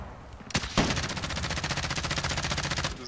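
Rapid automatic gunfire in Warzone, a sustained burst of evenly spaced shots after a couple of sharp single cracks, loud and close, with no talk over it.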